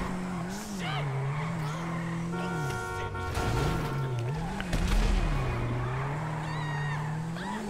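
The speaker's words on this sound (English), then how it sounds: "This is the right place to do a bit of drifting." A car engine whines and revs with rising and falling pitch while tyres screech in long squeals, loud and continuous, in Grand Theft Auto V.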